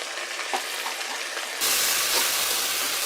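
Onion with garlic and ginger paste sizzles in a frying pan, at first with a quieter crackle and faint stirring, then jumping to a loud, steady hiss that continues to the end.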